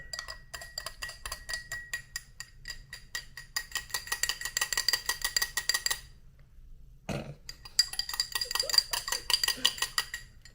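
A spoon clinks quickly and repeatedly against a cup while mayonnaise is stirred into freshly brewed coffee. The close, bright tapping runs for several seconds, stops after a brief thump, then starts again.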